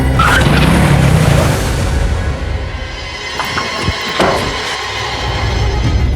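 A car on the road brakes hard to a stop in a crime drama scene, a loud engine and road roar with a tire skid that fades into quieter rumble and small clicks, no voices.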